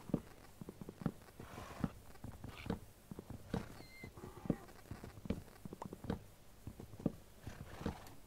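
Horses in Minecraft clip-clop steadily in a regular hoof rhythm, soft and fairly distant, with a faint whinny partway through and no voices over them.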